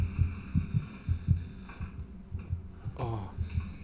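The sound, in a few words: heartbeat in the video game Among the Sleep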